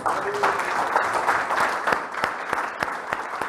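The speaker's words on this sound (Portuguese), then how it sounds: "Palmas para Jesus." Church congregation applauding after a sermon, dense steady clapping with sharp individual claps standing out, a voice faintly audible beneath.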